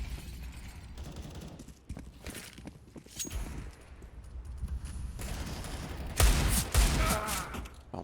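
Scattered pistol shots and footsteps in a Counter-Strike match on a bomb site, with sporadic cracks and movement noise that swell into a louder cluster of shots near the end.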